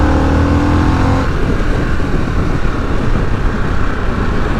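A 2021 Harley-Davidson Sportster S motorcycle engine revs hard and then drops into a rough, loud roar as it accelerates away, close and continuous.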